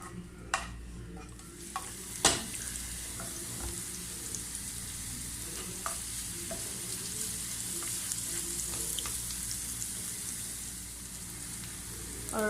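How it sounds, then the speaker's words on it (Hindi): Garlic and ginger paste fries in a pan with a continuous bright sizzle, broken by occasional scrapes and clinks of stirring, steady and close throughout. "और इसे अच्छी तरीके से फ्राई कर लूँगी ताकि इनकी स्मेल ख़त्म हो जाए।"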